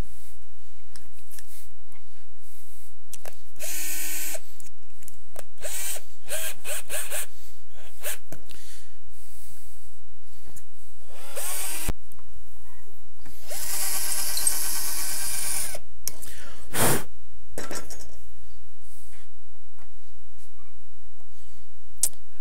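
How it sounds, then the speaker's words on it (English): A power drill with a bit boring into plywood in a home workshop, heard as several separate whirring runs of a few seconds each, loud and close, with quiet pauses between them and no talk. "That'll give my drill bit a nice place to start and it won't wander around at all."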